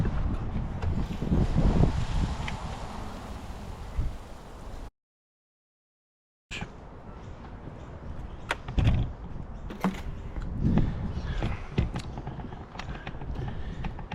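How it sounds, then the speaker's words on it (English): Gusty wind buffets the microphone over a lawn in low rumbling bursts, with a brief silent gap partway through and occasional knocks. "Best to wait till it's not so windy"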